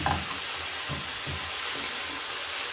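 Okra frying in a pan sizzles steadily while a spoon stirs it in a few soft, rhythmic scrapes, close up with no talking.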